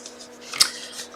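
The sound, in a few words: scissors cutting paper for a card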